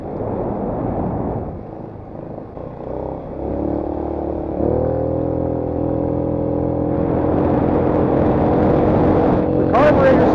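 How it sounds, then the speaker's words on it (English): A 150cc GY6 scooter engine with a newly fitted, loud carburetor idles with a buzzing, rattly tone close by, then revs up, its pitch rising sharply near the end. "The carburetor's louder than the freaking... The exhaust."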